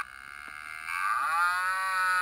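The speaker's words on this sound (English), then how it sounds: "mooed the cow." A cow's drawn-out moo rises and holds steady, loud and close, for well over a second with no talking around it, on a farm.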